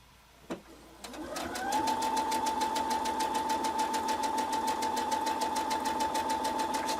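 A sewing machine stitches appliqué close to the edge of the fabric, starting with a couple of clicks before settling into a steady, even, close-up whirring hum with a rapid regular needle pulse, no talking.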